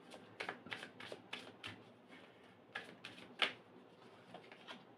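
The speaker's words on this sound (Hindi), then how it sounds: "ये जो कार्ड्स मैं निकाल रही हूँ ये आप दोनों के कार्ड है" Tarot cards are drawn from a deck in a quiet room, giving a series of soft, close card flicks and snaps in an uneven rhythm, one sharper slap standing out, with no talking.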